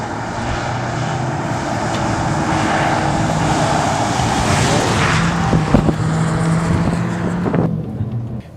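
A MINI Paceman's engine revs and pulls hard in its sporty driving mode, a steady loud drone building in pitch with gear changes near the end, with no talk over it.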